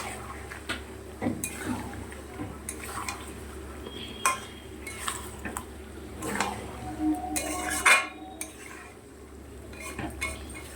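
Spice masala is stirred and sautéed in a pan, with a spoon scraping and clinking against the metal in irregular close strokes over a faint low sizzle, without talk.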